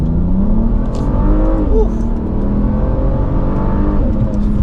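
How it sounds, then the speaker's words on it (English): A 2015 Volvo S80 T6 engine revs hard as it accelerates, its pitch climbing and dipping through quick, snappy gear changes, loud and steady throughout. "The engine sounds really nice, and those shifts are quite snappy"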